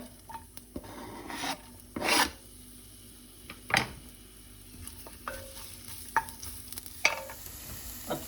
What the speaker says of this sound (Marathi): मातशें पियाव मातशें भाजून हाडया